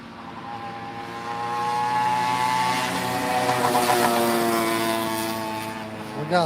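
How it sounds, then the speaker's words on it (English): Road traffic passing by near a fishing spot, a vehicle engine swelling in and fading out as it goes past, moderately loud. "We got a lot of traffic today, that's for sure."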